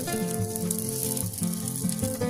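Batter frying in a pan over a low stove flame, a brief, steady, close sizzle with a gentle hum beneath and no talking.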